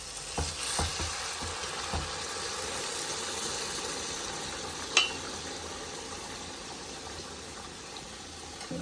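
Boiled mutton frying in curry masala in a home kitchen, giving a soft steady sizzle with occasional stirring scrapes and one brief sharp clink midway, fairly faint and with no talk.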